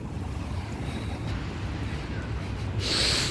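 Sea waves washing against the shore in winter at Alexandria, a steady broad wash with wind noise on the microphone and a louder surge of water near the end.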